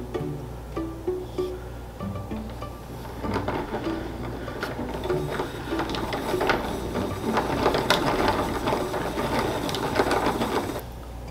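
Yarn being wound straight from a spinning bobbin into a center-pull ball on a winder, a continuous whirring, clicking mechanical hum with a faint rattle, steady and moderately quiet throughout.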